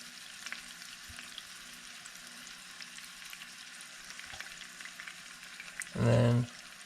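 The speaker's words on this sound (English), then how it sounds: "All right, oil's finally heated up. Just gonna lay our pieces in here." Pieces laid into heated oil fry with a continuous close crackling sizzle that holds steady throughout, then a brief louder tonal burst near the end.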